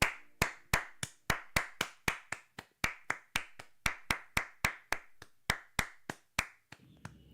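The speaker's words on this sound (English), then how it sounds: "It deserves a round of applause." A single person claps steadily, about three claps per second, each clap sharp and close, with nothing else heard.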